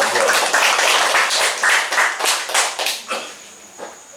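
Applause breaks out at a Catholic parish community gathering, brisk individual claps at first, then thinning out and fading to a few scattered claps by the end.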